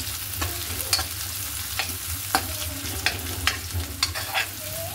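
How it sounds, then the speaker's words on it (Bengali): Onion and garlic frying in a pan, a steady sizzle with repeated sharp clinks and scrapes of a stirring utensil, close and clear, no voices. "তো এই যে পেঁয়াজ দিয়ে দিয়েছি আর রসুনটা দিয়ে দিয়েছি। এটাকে একটু ভালো করে ভাজা ভাজা করে নিই।"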